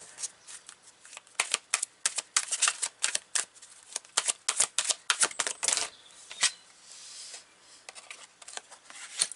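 Oracle cards being shuffled by hand, a rapid series of close, crisp riffling and slapping bursts in uneven clusters, fairly quiet and with no talking.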